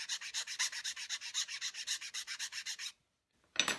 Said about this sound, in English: clean up that cut with a file and a slight angle